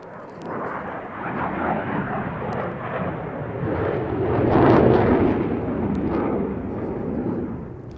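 An aircraft at an air show passes overhead with a loud, broad jet roar that swells to a peak midway and then eases slightly, with no talk heard.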